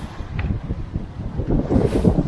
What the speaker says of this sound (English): Little gust.